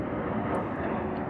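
A steady, loud roar of helicopters flying overhead fills the whole short stretch as a continuous rumbling drone with no talk.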